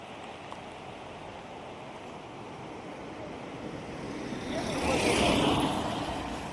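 Floodwater rushing over a main road makes a broad steady hiss and roar mixed with wind buffeting, swelling louder for a couple of seconds near the end.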